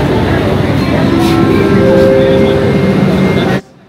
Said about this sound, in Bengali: তারপর থেকে কিন্তু বাকি সব লাইনটাই হচ্ছে ওভারহেড, মানে ব্রিজের উপর দিয়ে ট্রেনটা যাচ্ছে।